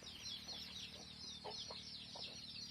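Free-range village chickens out foraging for ants and insects give short, soft clucks in a few scattered bursts at moderate distance, over a steady background hum.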